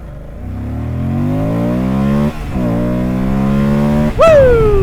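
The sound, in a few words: 2024 Moto Guzzi Stelvio motorcycle accelerating hard, power wheelie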